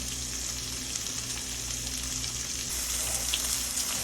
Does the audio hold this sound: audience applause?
no